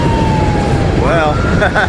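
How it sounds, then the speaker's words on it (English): A wailing ambulance siren rises and sweeps over the loud, steady rumble of a passing train at a crossing, with a voice faintly mixed in. "We've got a ambulance coming through in addition to a train."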